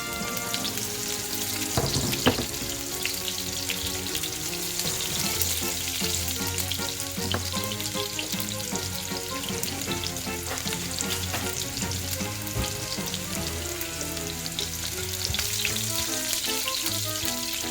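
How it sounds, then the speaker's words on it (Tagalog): Garlic and onions fry in a hot pan for a chicken ginataan, a steady loud crackling sizzle that runs unbroken throughout with no voices. "Mainit na yung kawali. Ayan. Ngayon lagay natin ang sibuyas guys."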